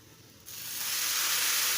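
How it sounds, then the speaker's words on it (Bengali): Water poured onto oil-fried rice for white pulao hisses up sharply after a quiet start, swelling into a loud, steady sizzle with steam that holds to the end. "এখন দিয়ে দেবো পানি।"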